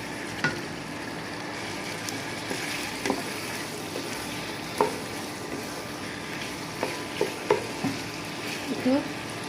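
Potato with Malabar spinach greens stirred in a frying pan: a steady sizzle of hot oil throughout, broken by repeated scraping strokes and soft clacks of the spoon, close and continuous for several seconds.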